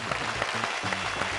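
A studio audience at a Telugu game show breaks into steady, dense clapping, loud and close, with rapid even hand claps filling the short burst and almost no talk over it.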